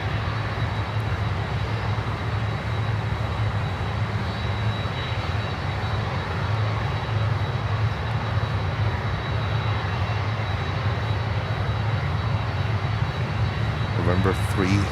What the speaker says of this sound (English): Beautiful Avianca Cargo 330 freighter based on the 200 with the roses on the tail.